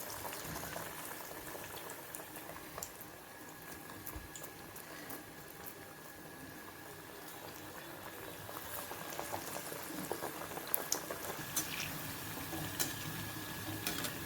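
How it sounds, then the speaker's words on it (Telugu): Pudina masala vadas deep frying in hot oil, a steady fine crackling bubble that runs close and unbroken, growing slightly busier toward the end, with no voices. "గోల్డెన్ బ్రౌన్ కలర్ వచ్చే వరకు ఫ్రై చేసుకోవాలి"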